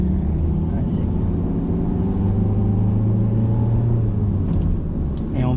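A car accelerates as it enters a roundabout during a driving lesson. The engine rumbles and rises close by inside the cabin, and a voice speaks briefly over it.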